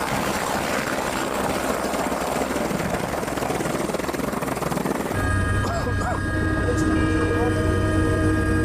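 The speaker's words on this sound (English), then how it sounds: "Then another helicopter gets through." A rescue helicopter at Everest base camp after an earthquake and avalanches thrums steadily, its rotor and engine drone constant and fairly close, changing tone partway through.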